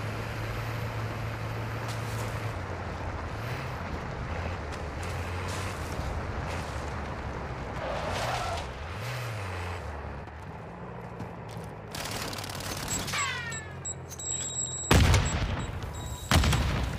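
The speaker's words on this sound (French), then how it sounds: "Une grenade à droite, une grenade à gauche." In a video game battle, two loud grenade blasts burst close by near the end, following a long stretch of rumbling engine noise and scattered distant gunfire.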